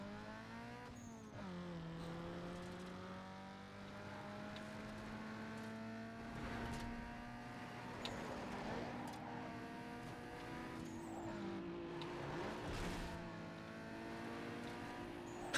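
A Mazda Miata race car drives in a video game, its engine droning steadily and rising and falling in pitch through gear changes, with occasional tire squeals and brief impact noises, no talk.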